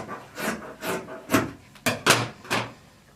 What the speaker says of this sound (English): And we're going to trim off this selvage.